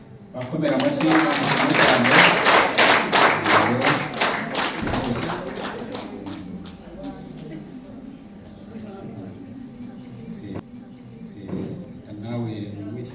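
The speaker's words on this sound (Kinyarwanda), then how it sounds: "Bakomera amashyi cyane." Guests at a wedding clap in unison, a loud rhythmic beat near the start that fades into scattered taps, with people talking over it throughout.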